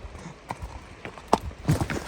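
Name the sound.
horse startled on a steep slope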